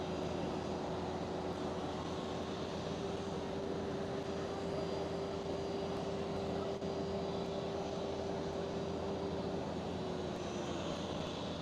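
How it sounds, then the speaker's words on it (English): A KLM Boeing 737 on approach to Amsterdam Schiphol, a steady distant engine roar with a faint sustained whine, continuous and even throughout. "I do see a KLM 737 approaching us on the left hand side of me."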